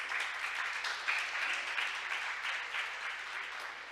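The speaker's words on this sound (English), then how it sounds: "Let's welcome him with a big round of applause." Audience applause welcoming a vice minister at a maritime week event, a steady wash of clapping from a crowd, sustained and even for several seconds with no talking.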